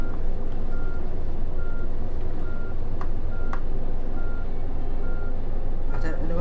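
A bus in a driving video game sounds repeated reversing beeps, evenly spaced about once a second over a steady engine rumble, with brief clicks along the way.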